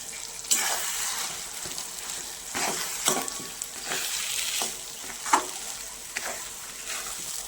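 Green pea paste sizzles in oil with asafoetida, salt and a little sugar in a kadai. A spatula scrapes and stirs it in irregular strokes over a steady, close frying hiss.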